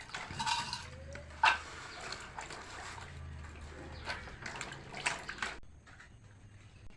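Cut raw papaya is washed in water, producing faint, close splashing and trickling with occasional sharp clinks and handling knocks, fairly quiet overall with a brief louder knock early on.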